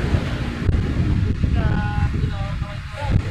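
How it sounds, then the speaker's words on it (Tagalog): Gusty wind buffets the microphone in a steady low roar at Manila Bay, with a faint wash of waves underneath and a thin engine-like whine drifting past. "mahangin at medyo malakas-lakas yung alon ngayon."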